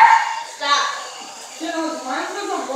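A dog gives short yips and whining barks at moderate distance, mixed in with people talking over it.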